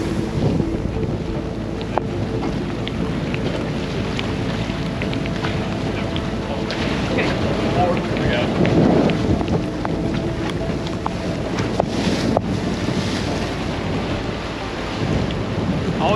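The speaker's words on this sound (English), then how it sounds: "That wind was pushing us in there pretty hot." Strong storm wind roars across a sailing yacht during a thunderstorm, a constant loud buffeting on the microphone with rain and rumbling thunder mixed in, steady and close for the whole stretch.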